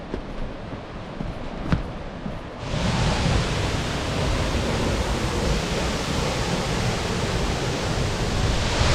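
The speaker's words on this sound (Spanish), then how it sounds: "Aquí podemos encontrar la cascada El Silencio." Cascada El Silencio, a waterfall near Murillo, Tolima, heard as a steady close roar of falling water that swells in abruptly after a few seconds of quieter ambience and then holds loud and continuous.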